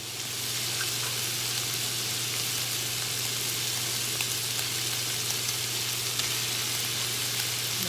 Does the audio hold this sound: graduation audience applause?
no